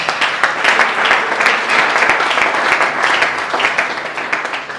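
Church congregation clapping during a service, a dense sustained round of applause filling the room, steady and fairly loud throughout with no speech over it.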